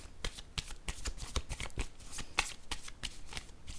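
A deck of tarot cards is shuffled by hand, giving rapid riffling flutters and soft slaps in an uneven rhythm, close and fairly quiet, with no speech.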